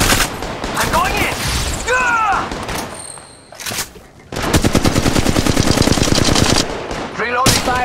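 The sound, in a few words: gunfire in the video game Apex Legends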